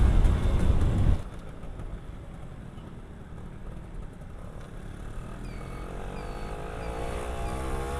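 A motorcycle with a two-stroke racing exhaust on a stock engine drones steadily at moderate distance after a loud opening burst, its pitch rising slightly near the end.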